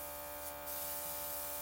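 Airbrush spraying Luminess makeup foundation: a steady, close hiss with a constant motor hum running through the whole moment, no talking.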